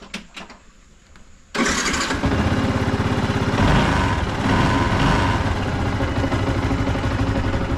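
A Yamaha R15 V2 motorcycle fitted with an SC Project aftermarket exhaust cold starts after a brief starter whir, then settles into a loud, rough, close idle that holds steady with slight revving swells; no talking.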